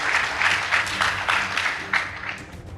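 An audience applauds a secondary school debate team at a competition, steady clapping at moderate volume that holds for a few seconds before thinning toward the end.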